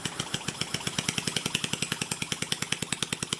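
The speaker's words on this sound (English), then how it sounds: "let's try the Scroll Technologies compressor. Sounds a bit healthier." Scroll Technologies HVAC scroll compressor running with its housing open, giving a steady fast rhythmic knocking pulse, about eight beats per second, with a faint metallic hiss on top and no voices.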